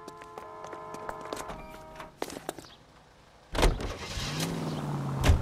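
A car in the game LA Noire, with door and window thunks and faint creaks at first, then an engine that starts up abruptly and roars on steadily as the car drives off.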